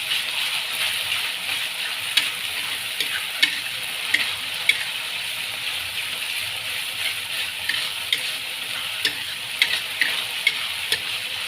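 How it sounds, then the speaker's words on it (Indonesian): Sambal terong balado, an eggplant chili dish, is stirred in a frying pan: a steady sizzle of frying runs throughout, with soft scrapes and occasional sharp ticks of the utensil against the pan, close up and without speech. "Kita aduk, kita ratain."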